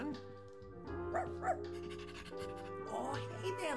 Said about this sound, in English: So there's my dog Heart